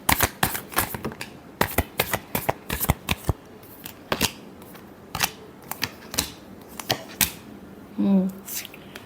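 Tarot cards being shuffled close by, a run of crisp riffling flicks and slaps in an uneven rhythm, with a short voiced sound near the end.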